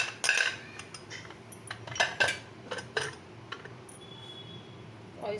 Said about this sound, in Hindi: इसको हम अच्छे से मिक्स कर लेंगे।